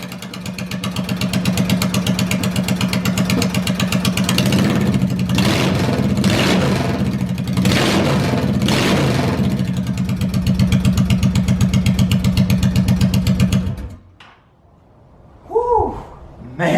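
A custom 2001 Honda Shadow 750 ACE motorcycle with oversized main and pilot jets runs rich, giving a loud, close, throbbing rumble with several revs that cuts off sharply near the end, followed by a brief voice.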